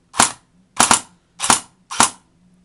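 SRC MP40 electric blowback airsoft gun with steel upper and plastic lower receiver firing four separate sharp shots, the second a quick double, spaced about half a second apart, loud and close with no talking.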